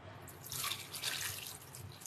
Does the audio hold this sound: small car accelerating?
no